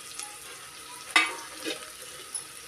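Spices sautéing in a pan while cooking black-eyed beans, a soft sizzle with a sharp utensil scrape and a few light stirring knocks, no talking.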